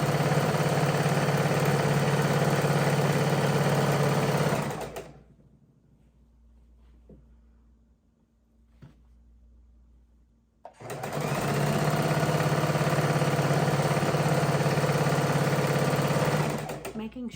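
A sewing machine stitches a border onto a baby quilt, whirring loudly and steadily, stopping for about six seconds with a couple of faint clicks, then running again at full speed.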